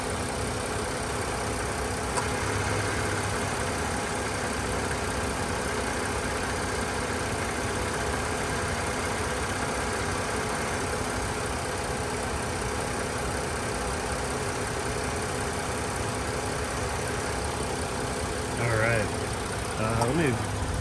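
3.5 liter V6 engine of a 2011 Lincoln MKZ idling, a steady, even mid-to-low hum with a faint background hiss, close by and unchanging for about twenty seconds.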